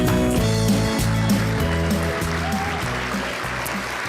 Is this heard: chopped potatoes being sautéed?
no